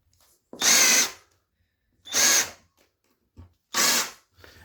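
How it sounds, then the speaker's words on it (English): A power drill countersinks holes in wood while a tabletop gaming table is built, running in three loud, separate bursts of about half a second each with short pauses between, plus a brief knock. "And now countersink."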